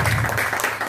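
A short burst of applause from a crowd, dense clapping throughout at fairly loud level.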